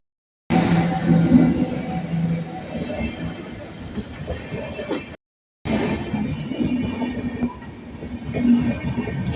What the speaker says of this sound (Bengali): রেল গেট পড়ে গেছে রেল গেট ট্রেন মামাজি আসছে